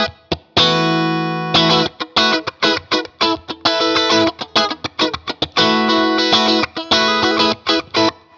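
Clean electric guitar through a TWS 2864-S amp, played completely straight with no breakup: ringing chords and single notes in choppy, rhythmic phrases, each strum sharp and sustained, alone without any voice.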